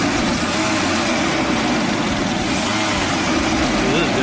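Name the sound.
Jaguar XJ6 engine running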